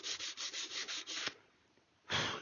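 Sandpaper rubs in quick repeated strokes along the wooden stock of a swivel breech rifle kit, about eight short passes, then a pause and one longer stroke, close and clear.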